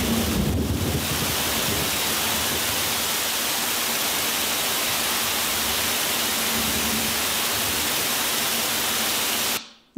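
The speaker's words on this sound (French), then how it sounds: "c'est un orage, mais enregistré à 20 mètres de fond" Thunderstorm recorded underwater at 20 metres depth: a dense, continuous roar of broadband noise with a heavier low rumble at the start, steady and loud throughout before it cuts off at the end.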